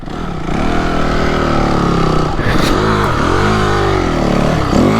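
A Honda CRF250X dirt bike engine on a dark trail, close and loud, revving up and down in steady waves over a continuous throaty idle, with the pitch rising and dipping repeatedly.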